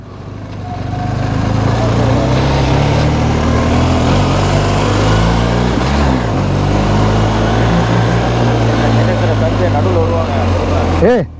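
A BMW GS 1250 motorcycle riding at low speed on a road, its engine drone steady and loud throughout, with someone talking over the sound.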